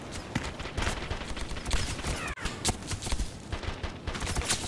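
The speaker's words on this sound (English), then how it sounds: "Enemy fire!" Enemy gunfire in the ARMA 2 military game, scattered distant rifle and automatic shots crackling irregularly over a noisy battlefield background, with one sharp nearer report midway.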